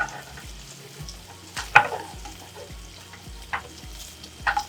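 Bacon strips frying in a pan give a soft, steady sizzle under a low background hum, broken by a few sharp spitting pops and light scraping stirs, close by and fairly quiet, with no talking.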